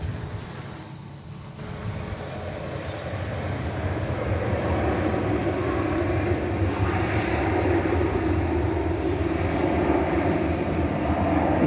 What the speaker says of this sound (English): Here, I think, is the FedEx 767 we talked about earlier